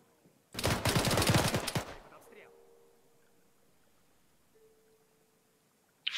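Marksman gunfire in a video game comes as a loud burst of rapid, sharp shots lasting about a second and a half. A quiet, lingering tail with faint tones follows.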